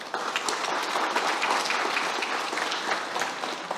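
A large audience claps steadily at a Pacific and global health centre launch in New Zealand, a dense, sustained wash of applause holding at an even level throughout.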